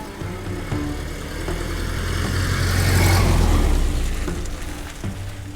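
Cars in a police chase along winding back roads, engines revving and swelling to a loud roar before easing off, with a broad rushing engine rumble throughout and no voices.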